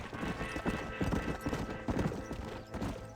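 Horse hooves clip-clop steadily in the video game Red Dead Redemption as the horse rides along, a busy, even rhythm of close, loud hoofbeats throughout, with a few faint vocal sounds behind.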